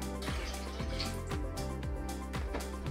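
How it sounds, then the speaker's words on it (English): Liquid nutrient is poured into the water tank of an indoor Tower Garden vertical farm, giving a soft splashing trickle under a steady hum of repeating background tones. "Then you just take it and you just literally pour it directly in."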